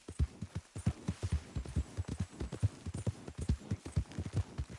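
Horse hooves clip-clop at a steady trot in Red Dead Redemption 2, close and rhythmic, a regular run of soft thuds from start to end.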